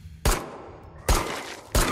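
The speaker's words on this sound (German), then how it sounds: "Testen wir mal die Knarre." Three loud gunshots from a test-fired weapon in the horror video game Pine Harbor, spaced about a second apart, each a sharp blast with a short decaying tail.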